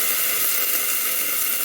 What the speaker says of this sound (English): just to create some steam